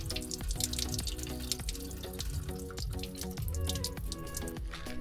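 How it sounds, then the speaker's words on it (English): Water from a 25-litre camping tank on a Ford Ranger off-grid setup spills from the overflow, a steady close trickle with dripping and splashing that runs without a break and has no talk over it. "water is coming out of the overflow like"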